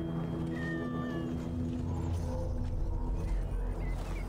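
A cat aboard a longship in the video game Assassin's Creed Valhalla gives several drawn-out meows over a low rumbling game ambience.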